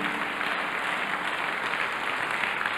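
A church congregation applauds the Lord, a dense, steady wash of many hands clapping at once that stays loud throughout with no voices standing out.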